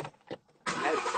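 A Ford Mustang engine starting: a couple of short cranking bursts, then the engine catches and roars steadily, close and moderately loud.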